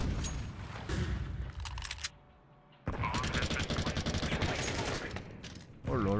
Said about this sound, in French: J'ai entendu une rafale au FAMAS